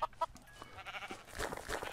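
Minecraft sheep bleat twice in quick succession near the start, short and fairly loud, followed by a wash of softer in-game noise with no talking.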